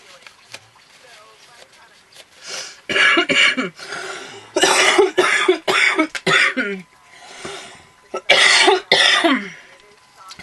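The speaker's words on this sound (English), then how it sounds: "I apologize about the coughing." Several loud, harsh coughs burst out close to the microphone in clusters, with short pauses and some throat clearing between them.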